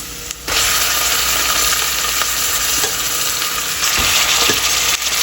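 Chicken pieces dropped into light-browned onions in a hot pan, a loud, dense frying hiss that holds steady throughout with faint stirring ticks.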